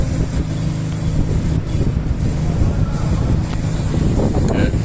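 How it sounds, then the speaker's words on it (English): Strong wind buffets the microphone in a constant rumbling roar, with gusty low-end bursts throughout and no clear voices. "It's very windy, so let's close it."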